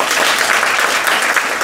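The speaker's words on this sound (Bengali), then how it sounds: "আমার এই স্যারের জন্য একটা হাততালি দেন।" Audience applause at a motivational training session, a dense, loud burst of many hands clapping together with no voices over it.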